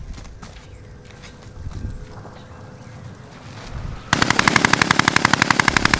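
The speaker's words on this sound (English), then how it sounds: "I'm taking fire here." Automatic gunfire in Call of Duty Modern Warfare erupts after a quiet stretch of faint game ambience, a loud rapid stream of evenly spaced shots running to the end.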